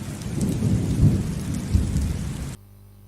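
A stormy-weather sound effect for a ship sinking, with heavy rain and low rolling thunder rumbling loudly and continuously for a few seconds before cutting off abruptly into near silence; no voices.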